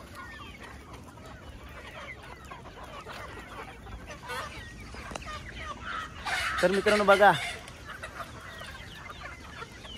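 Desi gavran chickens cluck in a crowded poultry shed, a steady background of many birds with one louder, nearer burst of calls partway through, while someone talks over them.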